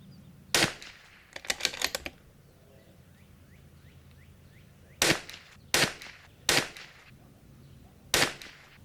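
Shots from a Bergara B14R .22LR rifle fired for groups at an outdoor range: a sharp crack, then a quick cluster of several pops, and later four separate spaced reports, each with a short ringing tail, heard alone.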